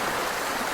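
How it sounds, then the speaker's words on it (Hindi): Flowing stream water at a romantic riverside spot, a steady broadband rushing wash with no breaks, close and moderately loud, heard alone with no talk. "बहता हुआ पानी,"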